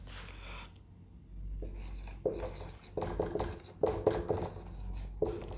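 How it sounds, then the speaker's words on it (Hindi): Pen writing out a question on paper or a board, a series of short scratchy strokes in irregular bursts with brief pauses between, close and clear, no talk. "मैं क्वेश्चन लिख देता हूँ"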